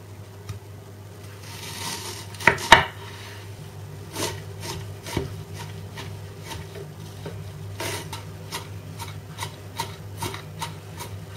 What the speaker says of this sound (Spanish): Vamos a picar la cebolla bien finita para mezclarla después con el bacalao.